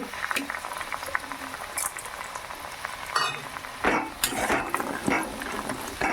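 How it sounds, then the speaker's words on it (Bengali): Small bori lentil dumplings fry in hot tempering oil with chilli, crackling and sizzling steadily up close, with a few louder bursts and light stirring scrapes partway through. "বড়িটা ফোড়নের মধ্যেই ভেজে নেব"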